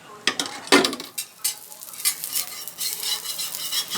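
Bread omelette toasting in oil on a pan, a bright continuous sizzle with a few clinking scrapes of a spatula near the start, close and fairly loud.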